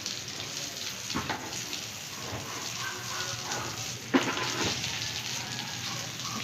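Water from a shower hose sprays steadily over a carabao during washing, a continuous hissing splash with a few sharper bursts, fairly close.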